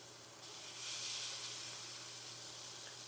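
Flat iron steak sears on a hot stainless steel pan, giving a loud, steady, close hiss and sizzle that swells slightly and holds with no talking.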